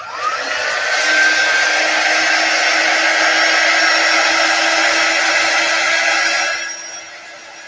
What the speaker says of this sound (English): I'm going to dry that side.